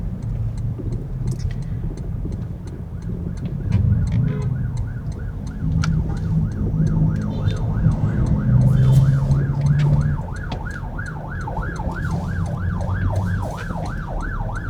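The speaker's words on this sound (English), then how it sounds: "Jeez, the ambulance is here." An ambulance siren wails in a steady, rapidly repeating up-and-down cycle, loud and continuous over the low rumble of traffic, growing more distinct as it goes on.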